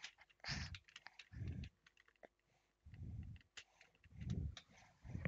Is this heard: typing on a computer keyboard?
yes